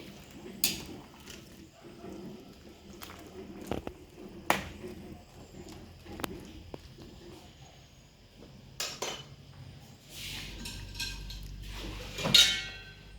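Pechay greens are stirred in a cooking pot, producing scattered metallic clinks, scrapes and utensil taps. A person talks quietly, and a dog barks a few times.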